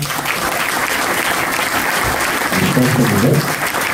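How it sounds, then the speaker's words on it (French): Loud, thunderous applause from the audience at an awards ceremony, a continuous roar of many hands clapping close and full, with a voice briefly rising over it near the end. "je trouve que ça mérite un tonnerre d'applaudissements"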